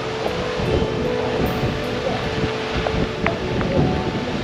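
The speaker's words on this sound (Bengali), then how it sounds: "পুরো বৃষ্টি পড়ছে," Heavy rain pours steadily during a strong storm in the hills of North Bengal, with continuous broadband noise, rumbling low thunder and gusts of wind, no voices.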